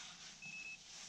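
A carp fishing bite alarm gives a single steady electronic beep, faint and thin, lasting about a third of a second over outdoor background noise at a camp in Spain.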